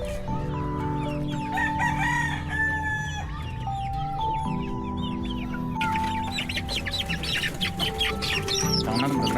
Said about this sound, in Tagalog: grabe, nagkakagawan din yung mga sisiw